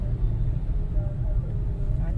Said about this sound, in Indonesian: kendaraan bermotor